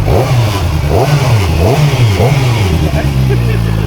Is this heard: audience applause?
no